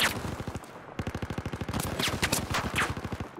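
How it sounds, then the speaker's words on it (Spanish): Rapid automatic gunfire in the video game Battlefield 4, loud rattling bursts of evenly spaced shots, briefly broken by a short pause. "Deja que dispare."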